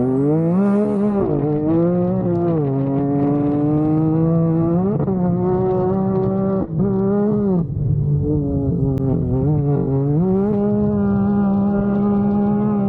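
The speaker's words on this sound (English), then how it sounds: "This RPM exhaust sounds amazing." A Can-Am Maverick R off-road vehicle with an aftermarket RPM exhaust drones loudly with a deep, throaty note, its pitch rising and falling in repeated revs and shifts, close up with no voices.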